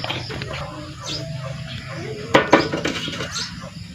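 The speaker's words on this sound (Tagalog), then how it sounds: "Kaya pwede na nating isalang ang ating kawali." A metal frying pan (kawali) set down on a kitchen stove, a couple of sharp clanks and scrapes of metal on the burner following some quieter handling noise.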